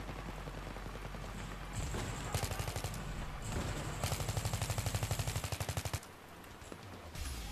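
In Battlefield 3 combat, rapid bursts of automatic gunfire rattle close and loud, with a long sustained volley near the middle before it cuts off and a few sharper shots follow.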